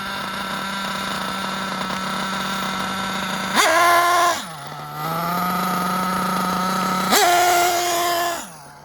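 A Losi nitro truggy engine on a rich setting drones at a steady high pitch, twice surging higher for about a second before dropping back, buzzing loud and close.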